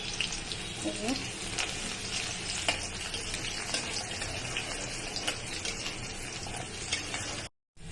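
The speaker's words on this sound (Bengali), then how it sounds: "এর মধ্যে আমি দেব রসুন ফোড়ন" Garlic sizzles in hot oil with already-fried potatoes, a steady, dense frying hiss lasting throughout with faint stirring scrapes, cutting out briefly near the end.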